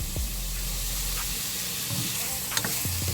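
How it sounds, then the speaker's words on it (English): Mushrooms sauté in hot oil in a pan for a stroganoff, a steady close sizzle with a few stirring scrapes and clinks near the end. "just let them saute until they're ready to go"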